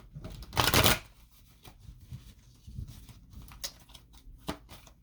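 A Moonology oracle card deck being shuffled, with a loud riffling burst near the start followed by softer, scattered card taps and rubs; no talking.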